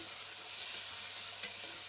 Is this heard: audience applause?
no